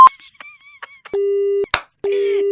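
A telephone busy tone after a call is hung up, loud steady beeps in two long pulses, preceded by brief clicks and electronic chirps on the line.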